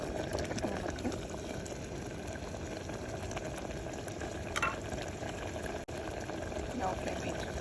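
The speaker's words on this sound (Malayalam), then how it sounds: "ഇതിപ്പം അരപ്പിട്ട് തിളച്ച് വരുന്നുണ്ട്" Ripe banana curry with a ground coconut paste bubbles steadily in a pot, a dense, continuous simmering hiss and burble heard close up. A sharp brief knock cuts through near the end.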